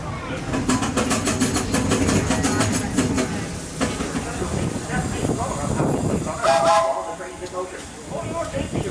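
The Disneyland Railroad steam train rumbles and chugs steadily in the rain at Main Street station, with hissing steam and rhythmic clatter; a short whistle sounds near the end while voices talk underneath.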